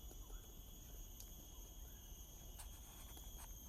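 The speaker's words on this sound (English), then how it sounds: "it's rather quiet except for the noise created by the cicadas" Cicadas and forest insects in Bukit Batok Nature Park on a quiet afternoon: a faint, steady, high-pitched drone in several layered tones, with no voices.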